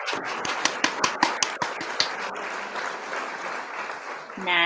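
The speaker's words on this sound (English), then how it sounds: "You can hear there was 109 people clapping right there." An audience of about 109 people at a meetup applauds, sharp rhythmic claps at first, then blending into a steady wash of clapping.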